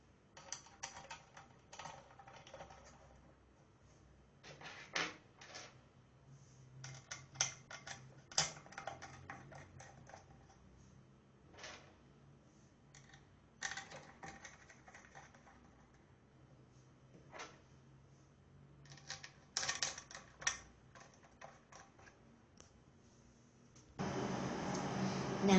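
Screws go back into the cover of a mono mode microwave reactor in a series of sharp, faint clicks and taps, scattered irregularly against a quiet background, with a louder rustle at the end.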